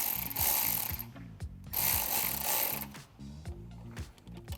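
Hose clamp on a K&N Series 63 AirCharger cold air intake for a Bronco being tightened by hand, with rapid clicking ratchet bursts in quick runs, brief pauses between them, close and moderately loud.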